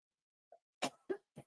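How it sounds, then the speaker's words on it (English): One person coughs three times in quick succession after a small faint sound, close by and with no other noise around it. "it's giving me a cough"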